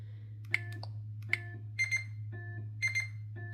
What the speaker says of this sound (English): You can hear that it's beeping.